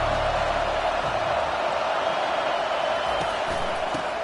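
A packed football stadium crowd roars in a Cajun home game, a dense, steady wall of noise that holds at full volume throughout without letup.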